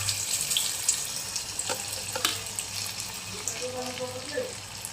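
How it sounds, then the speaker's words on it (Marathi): Lentil fritters dropped one by one into hot oil, a continuous bubbling sizzle with a few sharp clinks and splashes and brief talk in the background. "आता आपलं तेल गरम झालेलं आहे, आपण याच्यात एक एक सोडू."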